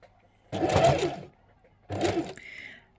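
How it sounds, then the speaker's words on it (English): A domestic sewing machine runs two short stitching bursts, about a second each with a pause between, sewing quilt binding to a corner with the presser foot lowered; close and fairly loud. "I've put my presser foot down again and I'm going to sew those few stitches to the corner"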